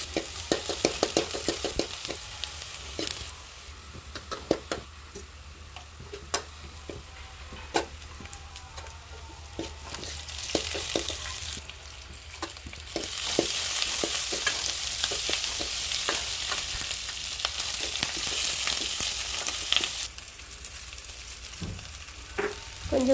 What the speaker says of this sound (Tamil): இப்போ எண்ணெய் விட்டு கடுகு, வெந்தயம் இத நல்லா பொரிய விட்டுட்டு அதுக்கு அப்புறம் வெங்காயம், கருவேப்பிலை, தக்காளி, கொஞ்சமா வந்து ஜீரகம் இதையும் போட்டு நல்லா வதக்கி விடணும்.